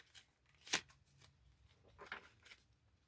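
Cards are riffled and shuffled close by in a quiet room, with a couple of soft crisp bursts and light handling noise between them.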